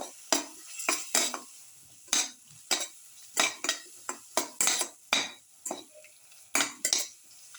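A utensil stirs a squid, garlic, bell pepper and tamarind casserole in a pan, making repeated close scraping and tapping strokes in an irregular rhythm over a soft sizzle, with no speech.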